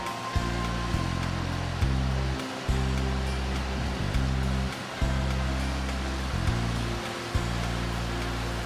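Steady rushing snowmelt mountain stream on the Chilkoot Trail flows continuously, a broad close wash with a low churning rumble underneath, no voices.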